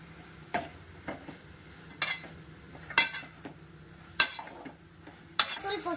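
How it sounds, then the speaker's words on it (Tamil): Ground spices such as coriander and cumin powder being stirred and sautéed in a pan, with a soft sizzle under a series of sharp scrapes and taps of a utensil against the pan. "இப்போ வதக்கிக்கலாம்"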